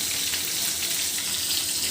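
Fish fries in a pan with a steady, close sizzle and crackle of hot oil that holds evenly throughout, with no talking.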